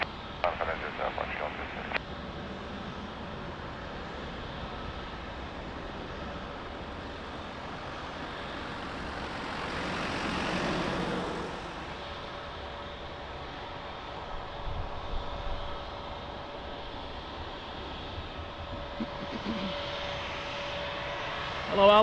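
A plane comes in to land at Lisbon Airport, its engine roar swelling to a broad peak midway and then easing off, heard at a distance over steady background hum, with a radio-like tone and brief clicks at the start.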